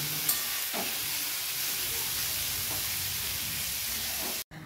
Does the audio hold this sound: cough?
no